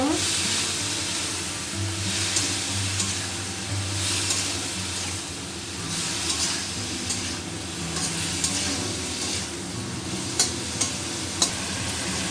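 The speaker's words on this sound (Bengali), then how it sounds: "একটু ভাজা ভাজা করে নেব" Spice paste with salt and turmeric fries in a pan for a fish curry, giving a steady close sizzle broken by soft scraping stirs and a few clinks of the spoon.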